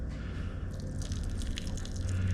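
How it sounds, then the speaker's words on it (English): Elderberry syrup pours steadily through a cheesecloth strainer with a soft, continuous splashing trickle, close by and uninterrupted for a couple of seconds. "And then you just slowly pour it in and"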